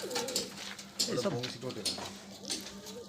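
Kalasabuj pigeons, an old-generation fancy breed kept as a pair, coo in steady low throaty phrases close by, with people talking over them throughout.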